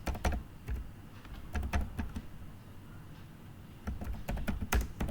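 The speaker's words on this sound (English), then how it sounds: "So I am typing," Typing on a computer keyboard while setting up an online exam: clusters of close, crisp key clicks, a brief lull, then more rapid tapping, with no talking.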